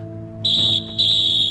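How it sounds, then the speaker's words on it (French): A referee's whistle in an anime football match blows a long, loud, steady shrill tone, breaks briefly, then sounds again, over a low background hum. "Le coup de sifflet vient de retentir."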